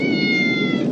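A cat meows once in a single sustained, loud and close cry, heard on its own without talk.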